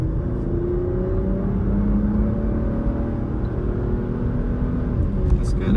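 Car engine revving as it accelerates through the gears, a steady in-cabin hum with rising and falling engine tones marking shifts, moderately loud and continuous.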